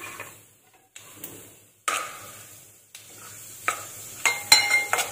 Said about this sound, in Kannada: ಇವಾಗ ಸಾಸಿವೆ ಜೀರಿಗೆ ಹಾಕ್ತೀನಿ, ಸಾಸಿವೆ ಜೀರಿಗೆ ಚಟಪಟ ಅನ್ನಲಿ. ನೆಕ್ಸ್ಟ್ ಇದ್ರ ಜೊತೆಗೆ ಉದ್ದಿನ ಬೇಳೆ ಹಾಕ್ತಾ ಇದ್ದೀನಿ.